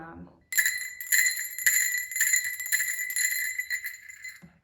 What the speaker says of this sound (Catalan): La campana de plata. La campana saltarina.